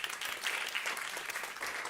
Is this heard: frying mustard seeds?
no